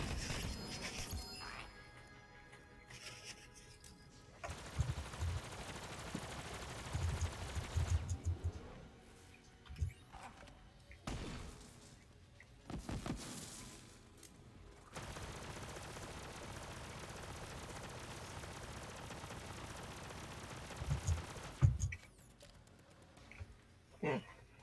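Flak shotgun blasts in Borderlands, bursts of gunfire with crashing impacts in several clusters over steady game noise, with a voice talking faintly at times.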